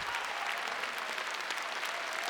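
A brief, steady wash of audience applause, even and moderately quiet, with no voices over it.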